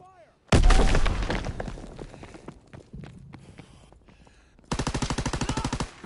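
Gunfire in a World War II Call of Duty match: a sudden loud burst of automatic fire trailing off, scattered shots and clatter, then another rapid rhythmic volley near the end.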